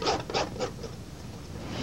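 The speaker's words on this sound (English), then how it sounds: "This is the event of pulling paint across canvas makes a sound." A palette knife drags paint across a canvas on a cable easel outdoors in a harbor park, giving three or four short, faint scraping rubs in quick succession, then quiet.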